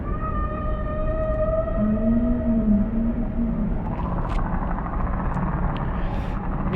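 A whale vocalizes in the submarine game Cold Waters, long wavering tonal moans rising and falling over a constant deep underwater rumble, later fading into a hissing wash with faint clicks, and nobody speaks.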